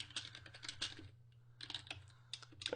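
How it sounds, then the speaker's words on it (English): Quick bursts of typing on a computer keyboard in the Vi/Vim text editor, clusters of crisp key clicks with a short pause in the middle, close and quiet. "Then I can start typing."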